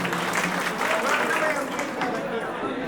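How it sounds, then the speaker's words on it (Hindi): A crowd at a tenants' general meeting claps warmly and steadily, with voices chattering underneath the applause. "जोरदार तालियां सबके लिए हमारे अध्यक्ष जी के लिए।"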